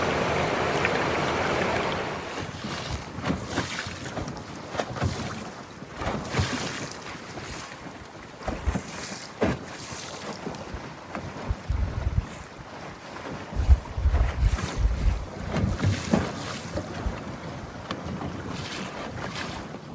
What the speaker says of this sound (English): windy day here on Table Rock Lake. Wind was blowing probably 25 miles an hour today